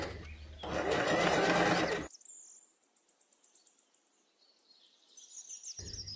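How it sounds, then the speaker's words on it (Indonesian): Sewing machine stitching a dress sleeve, a loud steady burst of motor whir for about a second and a half, then stopping into near silence with faint high ticking. "Sebelumnya saya akan jahit dulu satu kali."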